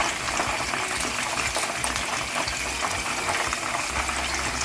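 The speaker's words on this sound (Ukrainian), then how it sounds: "Моя олія вже розжарилася, і я кладу туди наші шматочки нашої закуски." Pieces of meat appetizer fry in hot oil, giving a dense, steady sizzle that stays loud and close throughout with no voices.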